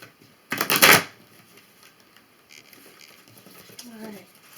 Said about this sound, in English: So let's shuffle up these cards here